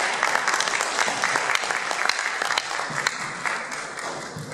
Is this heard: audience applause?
yes